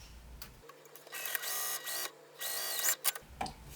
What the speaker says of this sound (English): I'm just going to sew across this with the seam allowance given in the pattern